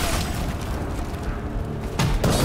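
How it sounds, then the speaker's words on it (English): In Dragon Age: The Veilguard, a ball of corruption is shot with a dense, booming whoosh, and a second sharp burst follows near the end. "Always have to shoot a ball of corruption"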